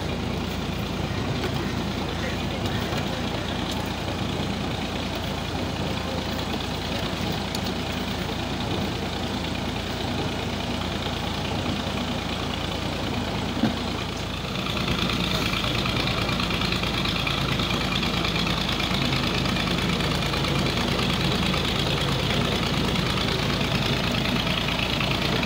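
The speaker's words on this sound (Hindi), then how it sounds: "अस्सी मॉडल ट्रैक्टर है जी, जो परफॉर्मेंस देख रहे हैं NF 240।" An old 1980s-model NF 240 tractor engine runs steadily at close range, a continuous rough diesel drone that holds the same level throughout, with a slight shift in tone partway through.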